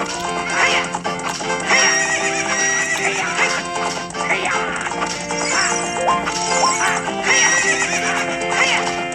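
A horse neighs and gallops in The Legend of Zelda: Ocarina of Time, with repeated loud whinnies over a steady clip-clop of hooves and game music throughout.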